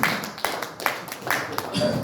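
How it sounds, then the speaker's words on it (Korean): At a Korean party launch ceremony, a small group claps briefly, giving a few sharp, scattered hand claps heard fairly close without any talk. "박수 부탁드리겠습니다."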